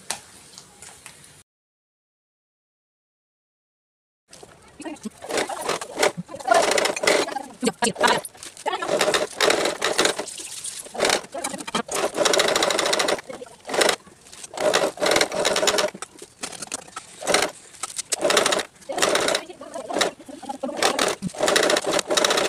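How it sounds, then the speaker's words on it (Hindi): A sewing machine stitches two fabric pieces together for a bread cover, running in rapid bursts of mechanical clatter with brief pauses after an early silent gap, close and fairly loud. "ये देखो इस तरह से हमने स्टिचिंग कर लिए हैं। दोनों पीसेस हमने रेडी कर लिए हैं।"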